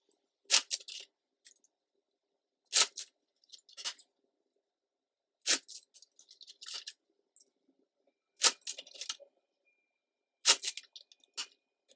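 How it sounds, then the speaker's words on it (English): Tarot cards being shuffled in several short, crisp bursts spaced a few seconds apart, fairly close and with no talking. "Then let's shuffle."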